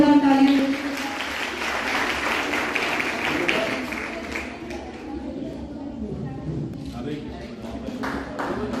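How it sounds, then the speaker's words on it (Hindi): Audience clapping rises at a school's annual sports meet prize distribution, loudest at the start and then settling into a softer patter as a voice talks over it. "एक बार जोरदार तालियां"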